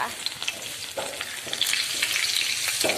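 Shallots stir-fried in a pan give a steady, close crackling sizzle, with faint scrapes and stirring clatter breaking through the hiss now and then.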